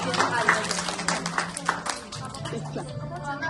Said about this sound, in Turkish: Alkışlayak Zəhrandan.